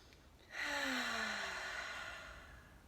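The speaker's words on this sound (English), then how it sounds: "Deep breath." One slow, deep inhale and exhale during a calming tapping exercise, audible as a soft, breathy sigh that swells and then tapers off, close and quiet.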